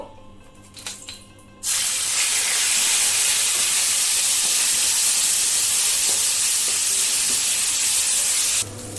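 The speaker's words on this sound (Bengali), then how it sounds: "চিকেনটা যে ম্যারিনেট করে রেখেছিলাম সেটা এখন ফ্রাই করে নেব।" Marinated chicken pieces hit hot oil and a loud, steady sizzle of frying takes over after a short quiet start, holding strong for about seven seconds before easing off, with no talking.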